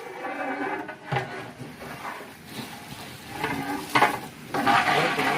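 Thirty kilos of fresh goat mutton for biryani fry in a large pot while being stirred. A loud, close sizzle runs throughout, with repeated scraping sweeps and knocks of the stirring tool.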